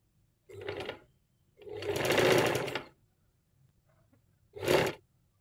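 An electric sewing machine stitches a sleeve attachment in three separate bursts: a short run, a longer one and a final quick run, each whirring loudly between brief silences.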